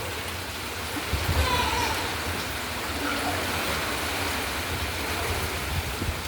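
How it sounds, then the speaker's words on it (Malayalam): A dense, steady wash of heavy rain pours down without pause during flooding in Kerala, loud and close, with no voices. "മഴ വീണ്ടും കട്ടിയായി പെയ്തുകൊണ്ടിരിക്കുന്നു."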